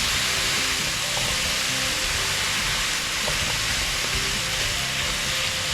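Apples fry in melted sugar in a pan, giving a loud, dense, continuous sizzle with a steady hiss and small crackles, close up and with no talking.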